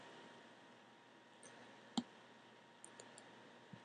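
A single sharp computer mouse click stands out, followed by a few fainter ticks, close against a quiet hiss.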